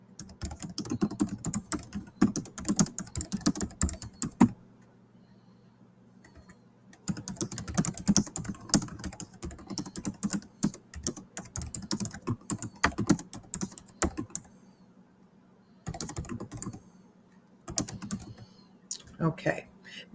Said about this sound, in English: I can go ahead here and I can start typing my